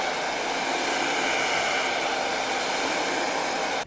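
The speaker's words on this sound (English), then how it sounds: "And then I have a hairdryer because I'm impatient." A hair dryer blows with a steady, loud whooshing hiss for a few seconds, nothing else heard.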